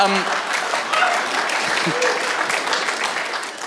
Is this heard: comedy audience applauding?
yes